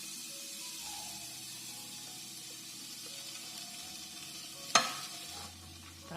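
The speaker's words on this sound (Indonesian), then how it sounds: "baru kita masukkan cincangan bawang merah, bawang putih dan bawang bombaynya. Kita goreng-goreng sampai agak layu, tapi jangan gosong ya" Chopped shallots, garlic and onion frying in butter in a pan, a steady soft sizzle with stirring, one sharp clatter near the end, no talk.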